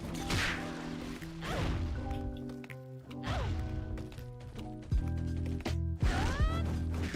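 Heavy smashing attack impacts from the Vindictus video game, several loud crashing whacks and thuds over swooshing effects and game music, spaced unevenly through the passage.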